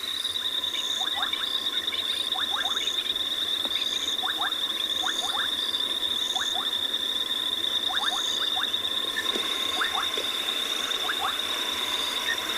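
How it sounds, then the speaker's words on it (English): A chorus of many frogs calls steadily through the night near a dam, with rapid clicking croaks repeating over a constant high whine and a low background rush, and no voices. "there's a lot of frogs calling"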